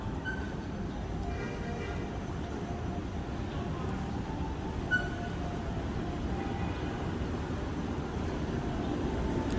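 Steady low rumble of a KRL commuter train in motion, with continuous wheel and rail noise and faint interior hum throughout, no clear talk.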